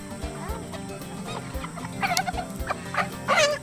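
Cornish Cross meat chickens squawk and cluck being handled for weighing on a scale. Several sharp, loud squawks burst out near the end over a background of softer clucking, close to the listener, with rustling between calls.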